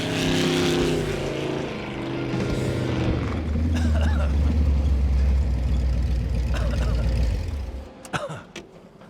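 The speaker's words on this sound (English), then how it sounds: "The sound of the exhaust right there in stereo, pure adrenaline rush" A Ford FE V8 roars through its exhaust in a Ranger chassis roadster, a loud, sustained deep rumble that swells under acceleration and then backs off to a lighter burble near the end.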